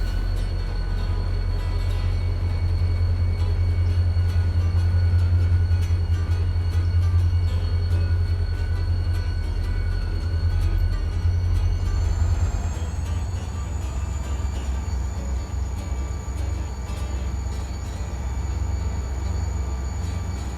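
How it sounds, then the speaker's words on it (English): A model train switching on a mainline layout rumbles steadily with a low, continuous rolling drone, joined midway by a thin high whine as the cars keep moving. "Do a bit more mainline switching up here."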